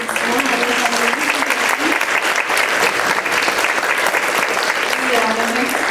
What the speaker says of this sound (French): on doit donner une chaleureuse main d'applaudissement à notre invité